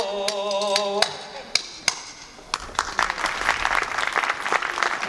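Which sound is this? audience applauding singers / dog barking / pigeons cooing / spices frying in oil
audience applauding singers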